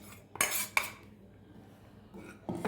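A spoon scrapes and clinks against a pan as chilli powder is dry-roasted on a stove, with two sharp metallic knocks early on, a quieter stretch, and a final scrape near the end.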